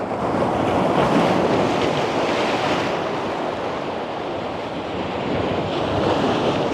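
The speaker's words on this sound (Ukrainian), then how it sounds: "Ось така хвиля зараз величезна буде." Huge stormy autumn sea waves crash and break on the shore at Fontanka near Odesa, a continuous loud roaring surf with gusty wind buffeting the microphone.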